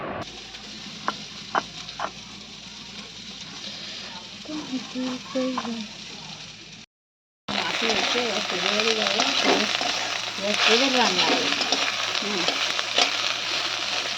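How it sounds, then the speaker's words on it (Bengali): Taruli frying in a pan, a faint sizzle with scattered clicks and a few voices, then after a brief silence a louder close hiss of frying under ongoing background talk. "তরুলিটা মা ভাজছিল"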